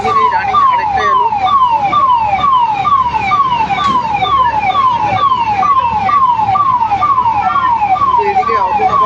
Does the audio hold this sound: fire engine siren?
yes